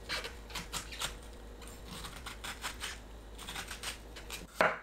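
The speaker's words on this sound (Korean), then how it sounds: "숟가락으로 씨 부분을 파내세요." A spoon scrapes seeds from a halved old cucumber in a series of short, close, scratchy strokes at a steady rhythm, with a louder scrape at the end.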